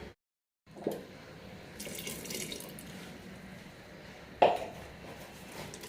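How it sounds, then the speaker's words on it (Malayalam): Water runs into thick idli batter in a steady, close pour after a brief silent start, with a sharp knock of the vessel near the end. "മാവ് നല്ല കട്ടിയാണ്. കുറച്ചുകൂടി വെള്ളം ഒഴിക്കാം."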